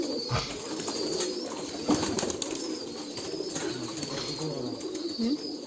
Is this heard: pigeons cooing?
yes